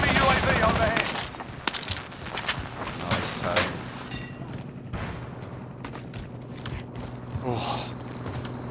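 Gunfire in a multiplayer shooter game: rapid shots and mechanical clatter crowd the opening seconds, then scattered pops and rattles continue amid game noise.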